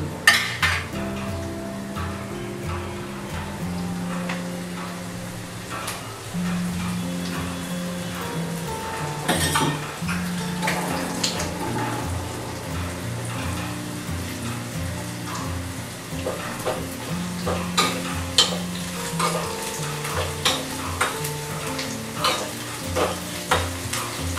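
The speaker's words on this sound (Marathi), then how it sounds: "कांदा मात्र तुम्ही व्यवस्थित फ्राय करून घ्या मंडळी." Onion frying in a pan for besan pitla in a home kitchen, with steady sizzling broken by frequent scraping and stirring clatter of a utensil against the pan throughout.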